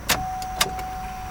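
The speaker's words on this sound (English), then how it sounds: "I need to connect the Bluetooth adapter to my phone, and I have to turn on the car to do that." A Chevrolet Trailblazer with a misfire has its ignition switched on: two sharp clicks about half a second apart, a fainter tick after, and a steady electronic chime tone running underneath, heard close inside the cabin with no engine running.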